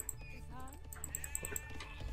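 Short, wavering sheep bleats from the video game Age of Empires II Definitive Edition come in a couple of quick calls, mixed with other soft game effects.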